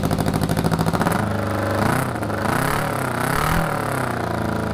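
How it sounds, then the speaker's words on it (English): An 80s Honda CB750 rebuilt as a cafe racer, exhaust wrapped in fiberglass, loud and close: a fast pulsing idle that swells into a sustained aggressive rev, holds, then dips and rises again. "Now that's exactly how a Honda CB750 motorcycle should sound. Loud, aggressive, and powerful."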